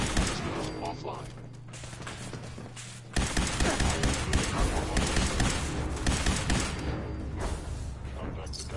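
Rapid gunfire from a firefight in Fallout 4, with dense bursts of shots and thuds that grow louder and busier partway through, with talking over them.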